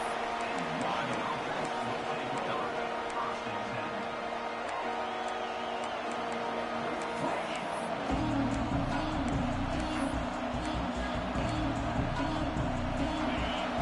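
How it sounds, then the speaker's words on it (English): A college football video game stadium crowd roars in a constant wash of cheering, swelling louder partway through, beneath ongoing play-by-play commentary. "Listen to the crowd energy here in the early going."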